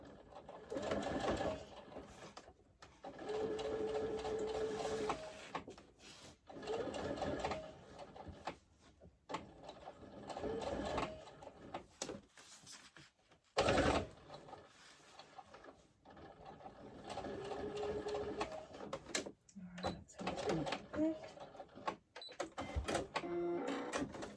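Coverstitch sewing machine stitching a plaid satchel bag, rapid mechanical whirring runs in bursts separated by brief pauses and small clunks, moderately quiet and close.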